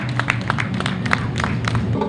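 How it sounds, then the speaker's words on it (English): A crowd claps and applauds at a 2003 motorcycle grasstrack race, a short burst of scattered handclaps heard at a distance over low background rumble. "Give him a round of applause, ladies and gentlemen."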